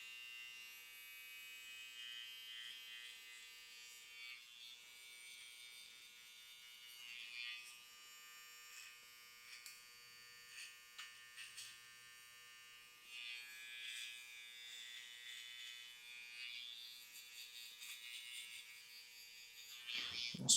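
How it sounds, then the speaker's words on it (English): An electric hair trimmer hums steadily while shaping a man's difficult hair during a haircut, a thin buzzing drone that rises and dips slightly as it catches hairs, close and fairly quiet with no talking. "It's easier to catch the hairs with the trimmer."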